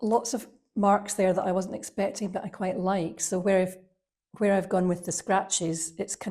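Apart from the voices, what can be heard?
No everyday noises stand out.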